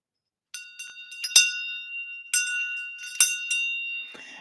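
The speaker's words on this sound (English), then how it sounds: "the shang bell," A Tibetan shang bell in a Chöd meditation, struck several times in uneven clusters, giving bright, shimmering metallic rings that sustain and overlap, close and alone in quiet surroundings.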